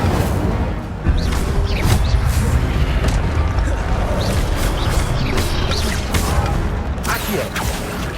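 An Incendio fire spell is cast in a Hogwarts video game, a dense burst of booming, whooshing effects that rolls on continuously, with a voice briefly speaking over it.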